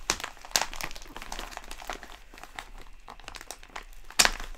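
Tied-up package wrapping is ripped open by hand, giving a run of crinkling, crumpling and tearing bursts with a couple of sharp louder rips, close and alone.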